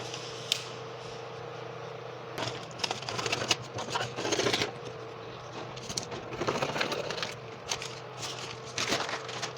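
Scissors snipping through a paper blouse pattern with a princess dart, close crisp cuts coming in uneven bursts with short pauses between them.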